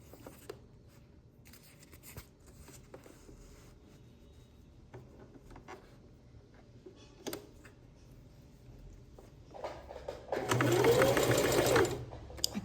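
Sewing machine backstitching fabric lining: faint ticks and taps, then a loud whirring burst of stitching near the end, close up and with no talking.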